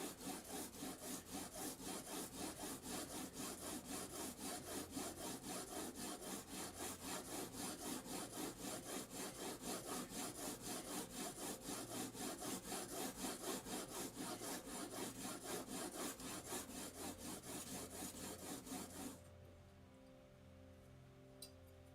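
A Stanley No. 5 hand plane blade being sharpened on sandpaper, rapid rhythmic back-and-forth scraping strokes, loud and close, stopping near the end.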